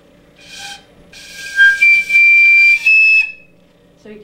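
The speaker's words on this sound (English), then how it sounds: "Some piccolos, like this one, is still made out of wood, and it just has the metal keys." Wooden piccolo with metal keys plays a short high-pitched melody, a few piercing sustained notes, clear and close, alone without speech.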